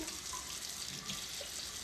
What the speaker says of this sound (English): No, you can't turn off the water.